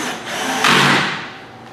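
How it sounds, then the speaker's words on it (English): A small hand drill with its clutch set low drives an 8mm metal bolt into plastic on a Ford F-series pickup's brake and blinker light housing, whirring loudly and peaking briefly. No voices. "I have the clutch set on my little hand drill here very low, because metal into plastic"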